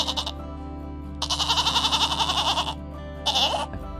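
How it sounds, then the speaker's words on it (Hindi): A goat bleats in a rural field, three loud, wavering cries close by, a short one first, then a long drawn-out bleat and a final brief one, over a steady low background hum. "अरे ये बकरी की आवाज है"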